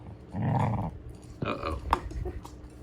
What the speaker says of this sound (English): That's the first time I've ever heard him growl at her.